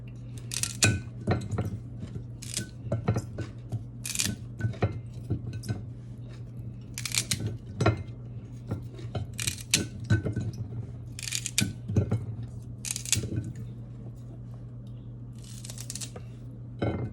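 Repeated crisp snips and crunchy cuts through celery stalks over a steady low hum, with occasional clinks of kitchenware between the cuts.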